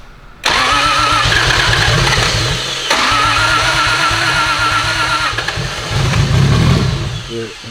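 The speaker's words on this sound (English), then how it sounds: "Start this thing." Toyota 1JZ engine swapped into a JZX100 firing up for the first time: a brief crank, then the engine catches and idles loudly and roughly up close, with a burst of revving near the end.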